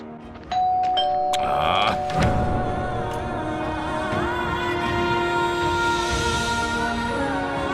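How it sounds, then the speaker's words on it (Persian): A doorbell rings again and again late at night, its chime tones sounding in bursts with a steady electronic tone lingering underneath, fairly loud and close, with no one speaking. "زنگ در رو خراب میکنی"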